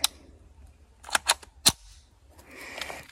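Several sharp, cracking gunshots from a .22 LR rifle firing CBC round-nose ammunition in a penetration test, ringing out in a quick irregular sequence, followed by a softer rustling noise near the end.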